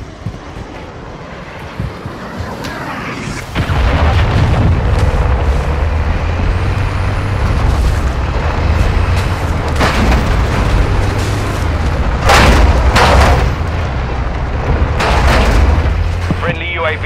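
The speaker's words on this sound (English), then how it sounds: "Hostile cruise missile launched." Heavy booming cruise missile explosions in Call of Duty: Modern Warfare II, a sustained low rumble with several sharp blasts rising above it, alongside radio-style announcer callouts.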